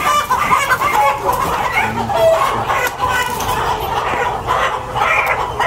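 Chickens cluck continuously nearby at a live poultry shop in Houston, Texas, a busy, overlapping stream of clucks over a noisy background.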